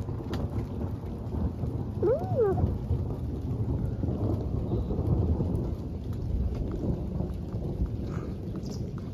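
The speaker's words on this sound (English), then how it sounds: "Some thunder." Low rolling thunder rumbles steadily beneath heavy rain, with a brief soft exclamation from a person partway through.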